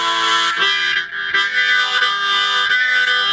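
A drawn chord rings from the paired-octave side of a back-to-back double harmonica, two reeds an octave apart giving a dense, organ-like tone that holds steady and close with brief dips in breath.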